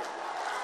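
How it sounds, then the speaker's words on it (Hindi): Large outdoor crowd at a parivartan political rally in Ghazipur roars with dense cheering and applause, loud and sustained throughout. "तालियों के गड़गड़ाहट से आशीर्वाद दीजिए"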